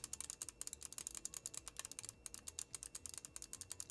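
Rapid, crisp button clicks from a Glorious Model O Wireless gaming mouse repeat in quick bursts, close and fairly quiet, with a brief pause midway.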